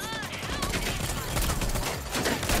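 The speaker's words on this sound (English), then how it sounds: "I'm still getting shot from across the way" Gunfire in the shooter game Rogue Company, a rapid, sustained burst of shots near and loud, with chatter from players underneath.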